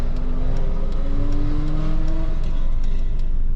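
A car engine revs loudly close by on a street where a delivery driver is parked, its rising drone swelling steadily and holding for several seconds with no talk over it.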